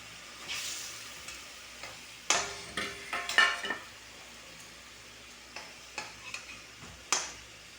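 Small parshe fish hitting hot oil in a pan for a mustard-poppy fish curry. There are several sharp, close bursts of sizzle and spatter with soft utensil clinks, separated by quieter stretches.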